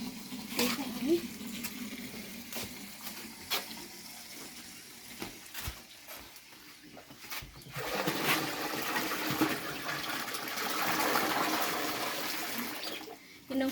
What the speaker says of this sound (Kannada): ಈಗ ನೀರು ತುಂಬಿಸೋಣ ಬನ್ನಿ